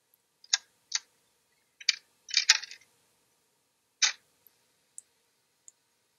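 A Furbo dog camera dispenses a treat with a short series of sharp mechanical clicks and rattles, a quick cluster in the middle, then a few faint ticks, all close and isolated in a quiet room.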